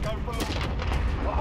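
A loud, close gunshot blast from a Desert Eagle pistol in Call of Duty: Modern Warfare, with heavy booming reverberation filling the short moment.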